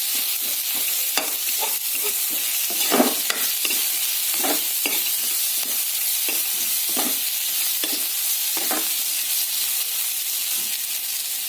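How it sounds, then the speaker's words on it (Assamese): Chopped onions fry in oil with fish, ginger and garlic for a fish curry with radish. A continuous close sizzle carries repeated scraping stir strokes in an uneven rhythm, with no talking. "ইয়াতে কুটি লোৱা পিঁয়াজখিনি দি দিছোঁ। ধুনীয়াকৈ লগাই দিওঁ।"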